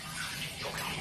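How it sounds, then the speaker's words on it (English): Water pours steadily into a glass demijohn, a continuous gushing splash that stays even and fairly quiet throughout. "then we'll fill it up with water"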